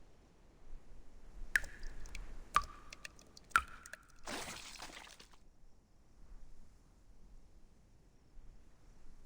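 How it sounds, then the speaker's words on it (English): Water drips three times at roughly one-second intervals in the video game Reverse: 1999, each drop a clear, close plink, followed by a brief splashy burst and then near silence. "Sounds like dripping water."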